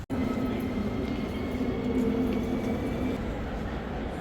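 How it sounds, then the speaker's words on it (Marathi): A train rumbles at Berlin's main railway station, a continuous low, moderately loud roar with a faint tonal whine on top and no talking. "Railway station. खूप सुंदर आहे."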